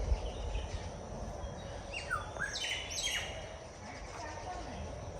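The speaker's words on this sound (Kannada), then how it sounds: "ಚಿಲಿಪಿಲಿ ಸೌಂಡ್ ಕೇಳ್ಬೋದು." Several birds chirping among trees in a garden, a few clear rising and falling calls at moderate distance over steady background noise.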